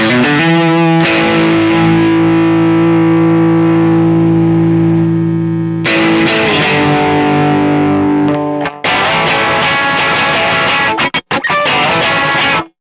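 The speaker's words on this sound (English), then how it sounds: "Let's add a little bit of compression here and a little bit of overdrive." An electric guitar through a Neural DSP Mesa Boogie Mark IIC+ amp simulation, with compression and overdrive, plays sustained, compressed chords with a gritty crunch, pausing briefly before resuming with busier strumming and a few sharp cutoffs.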